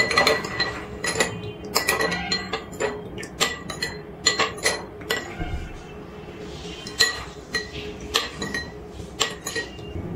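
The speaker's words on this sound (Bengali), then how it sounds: "জল দিয়ে 3 রকমের সস ভালো করে একটু মিশিয়ে নিয়েছি" Metal spoon clinking and scraping against a bowl while three sauces, including green chili and soy sauce, are stirred together with water; close, steady rhythmic taps and scrapes repeating throughout, with no voices.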